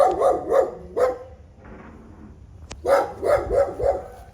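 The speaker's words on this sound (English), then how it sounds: "Hey, there's the dogs." Dogs bark in a quick series of sharp yaps, go quiet briefly, then break into another rapid run of barks, fairly close by.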